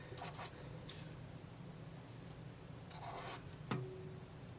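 Pen or pencil scratching out a physics calculation on paper, soft intermittent strokes close by over a quiet background, with a faint tap near the end.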